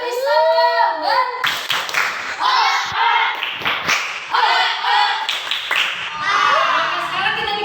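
Children perform the rhythmic "tepuk semangat" clapping cheer, crisp patterned hand claps interleaved with energetic chanting voices from start to finish.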